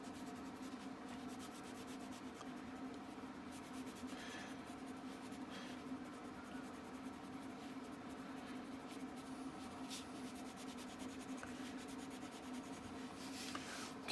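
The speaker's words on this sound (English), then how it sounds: "pull some lines down with my crayon" Red violet crayon pulled in diagonal strokes across paper while drawing mountains, a soft continuous rubbing scratch with faint repeated stroke accents, close and quiet with no talk.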